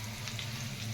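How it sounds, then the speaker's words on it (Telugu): Cauliflower pieces fry in a pan with a brief, even, close-up sizzle and no talking. "కాలీఫ్లవర్ ముక్కలు వేసుకున్నామండి. అవి కొంచెం వేగాలండి."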